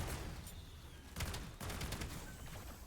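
Akitas pistols firing at zombies in Black Ops 7 Zombies, a quick cluster of sharp shots over a faint noisy game background, fairly quiet with no talking.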